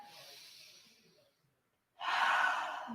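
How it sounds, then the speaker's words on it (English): A slow yoga breath drawn in over a long, soft, airy stretch, a pause of silence, then a fuller, louder breath pushed out near the microphone, with no talking. "One more big breath."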